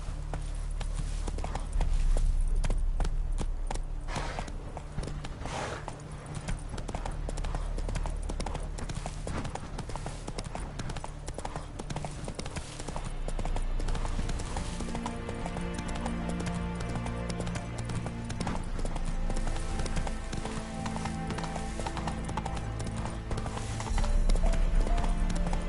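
Horse hooves clip-clop in The Witcher 3, a steady galloping rhythm heard close throughout with music underneath and a brief snort or whinny.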